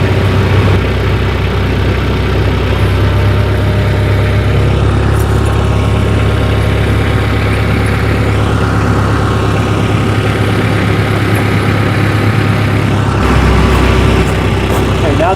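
A tractor fitted with pewag dopplespur snow chains rolls forward, its engine a loud, steady low drone with a brief shift in tone near the end, no pauses.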